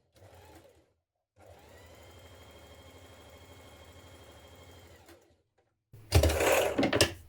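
A sewing machine stitches the two short ends of a blouse ruffle together, a brief whir, then a steady run of several seconds, followed by a louder burst at the end.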